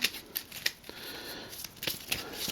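A deck of Kingdom Death: Monster board game cards is shuffled close by, papery riffles and soft slaps repeating in quick irregular bursts.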